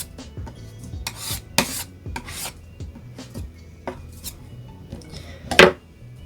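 Metal palette knife scraping and pushing oil paint sideways across a painting palette, a run of close, rough rasping strokes with light metallic clinks, the last stroke sharpest and loudest.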